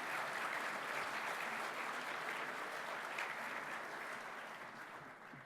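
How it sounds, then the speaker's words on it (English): An audience at a nursing excellence awards ceremony applauds, a dense, even wash of clapping from a sizable crowd that holds steady and then slowly begins to fade. "Could you please give this dedicated group of people a round of applause?"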